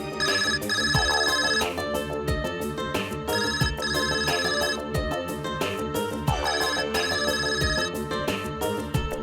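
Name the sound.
mobile phone ringtone ringing in a courtroom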